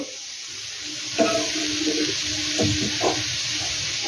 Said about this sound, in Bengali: জলটা আমার গরম হয়ে গেছে, এবার আমি জলটা দিয়ে দেব।